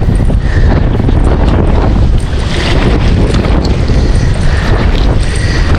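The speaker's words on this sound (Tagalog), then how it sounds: "Medyo mahangin nga lang" Strong wind gusts over open water while a fishing net is cast from the shore or a boat, buffeting the microphone in a loud, unbroken roar with no voices.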